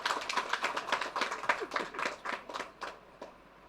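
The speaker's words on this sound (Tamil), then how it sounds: "கைதட்டுறாளா ஆம்பளை?" Hand clapping in a village setting: a rhythmic run of about fifteen sharp claps, close and steady at first, then thinning and fading toward the end.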